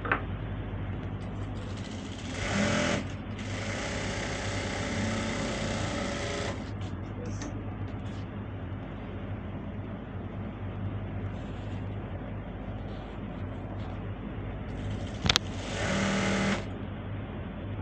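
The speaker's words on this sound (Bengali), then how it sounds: "এরপরে আমরা ওই একইভাবে এখানেও 8টি করে প্রিন্টেক সেলাই দিব।" Domestic sewing machine running long stitching passes on pajama pants, a steady close whirring hum in several stretches separated by brief pauses.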